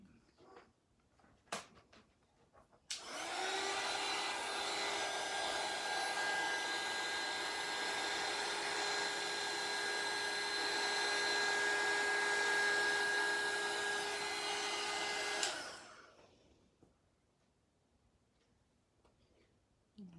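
A heat gun blows hot air to melt embossing powder, a steady whirring hiss that switches on abruptly after a few quiet seconds, runs evenly for about twelve seconds, then cuts off and fades.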